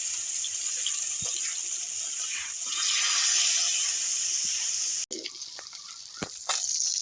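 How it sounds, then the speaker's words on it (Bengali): Spiced, marinated nylon tikka fish fry in hot oil with a loud, steady hiss that drops abruptly partway through, then continues as a quieter sizzle with occasional pops and no voices. "এবার আমি তেলে এগুলো ফ্রাই করে নেব।"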